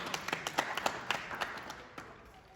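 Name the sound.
round of applause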